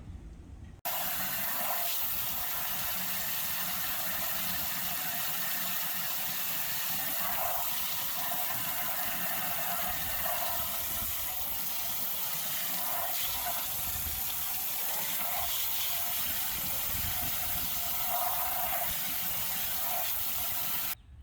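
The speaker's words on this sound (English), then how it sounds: "So what we'll do now is we'll put some water on it and see what happens." Water pours steadily over the tail lights of a Mitsubishi Rosa bus conversion during a leak test, a continuous close splashing hiss with no pauses and no voices.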